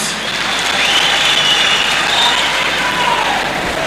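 Steady, dense clapping from a crowd at a public gathering, loud and continuous for the whole stretch, with no voices standing out.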